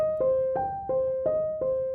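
Five simple piano chords are played without the sustain pedal, each one struck in a steady rhythm and fading quickly before the next.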